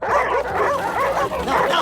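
Several dogs bark and yip in quick, overlapping bursts, loud and close, with whimpering tones mixed in and no clear speech.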